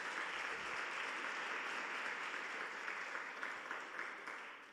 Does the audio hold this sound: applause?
yes